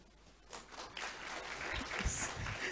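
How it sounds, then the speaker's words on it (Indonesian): Audience applause at a university graduate send-off ceremony, a short burst of clapping from a crowd that builds and stays steady, fairly faint and distant in a large room. "saya nggak perlu minta, udah langsung dikasih tepuk tangannya"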